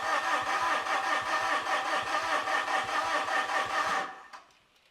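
Diesel engine of a Fuso FG truck with a 4P10 engine and suspected CP4 pump fault cranking over with a rapid, even rhythmic churn for about four seconds, then cutting off abruptly.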